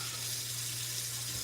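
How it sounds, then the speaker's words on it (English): Water drains in a steady, even rush with a low electrical hum underneath, continuous for the whole moment with no voices. "I drain water"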